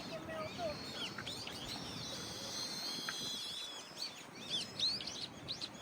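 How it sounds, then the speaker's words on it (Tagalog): Small birds chirp and tweet among Kawazu cherry blossoms in Japan, with scattered bright calls over steady outdoor background noise, moderately close and fairly faint. "May mga ibon natin."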